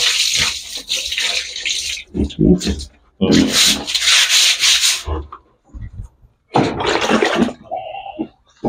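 Water runs in bursts while something is scrubbed and rinsed at a pig pen, with splashing gushes alternating with short pauses and rubbing sounds, close and fairly loud.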